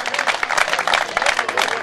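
A dense burst of crowd applause and clapping fills a football club's promotion celebration, loud and continuous for a couple of seconds with voices mixed in.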